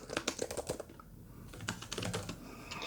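Fast typing on the HP Omen Max 16 gaming laptop keyboard, a quiet run of close, soft key clicks with a brief pause partway through and no voices.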